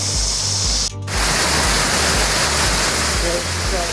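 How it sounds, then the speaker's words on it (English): Tennessee spring water welling out of the ground, a loud steady rushing splash close by that breaks off for a moment and then keeps pouring, with a low rumbling undertone. "Nice crystal clean spring water coming out of the"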